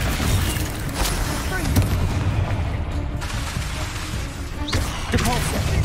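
The Confringo blasting spell goes off during combat in Hogwarts Legacy. Heavy booming blasts and crackling debris continue without a break, layered over dense, loud game noise.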